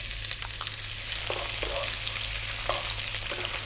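Peppercorns and chili frying in a pan, a steady crackling sizzle with scattered pops and the occasional stir, close and continuous.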